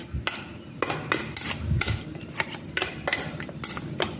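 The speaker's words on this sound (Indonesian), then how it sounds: "Jadi ini saya taruh di kulkas dulu." A few sharp clinks and knocks as a bowl of beef is set down and handled while being put into a refrigerator, with a faint mechanical clatter, close by.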